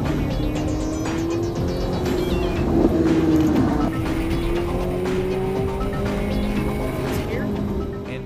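A Ferrari 458 Italia brakes hard with its tyres squealing in a rising and falling tonal whine over engine noise, close and continuous, while a voice talks over it.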